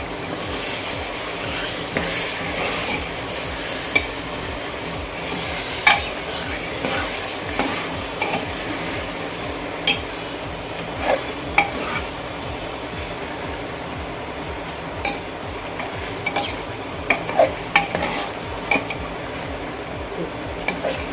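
Spice-coated chicken is stirred and fried in a pressure cooker: a constant frying hiss broken by repeated scraping and tapping from the spoon, close and moderately loud, with no talking.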